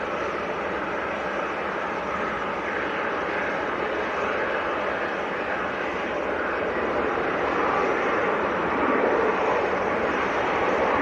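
Ryanair jet landing at Manchester Airport: a steady, loud broadband engine roar holding constant throughout, with no voices.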